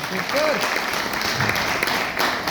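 Audience clapping fills a hall at an RCM business gathering, a steady dense wash of hands that carries on throughout, with a few voices faintly mixed in.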